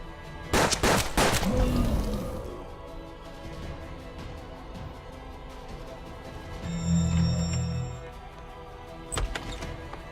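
Navy gun shots in the Hard West video game: a burst of several loud, closely spaced gunshots at the start, then a heavy low rumble mid-clip and another sharp shot near the end, with game ambience throughout.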